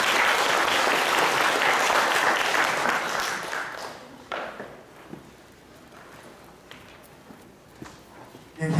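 An audience applauds after an academic lecture on contemporary Chinese calligraphy, a loud burst of clapping for about four seconds that fades quickly, followed by quiet room noise with scattered light sounds and a final swell.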